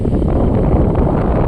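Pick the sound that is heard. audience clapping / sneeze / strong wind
strong wind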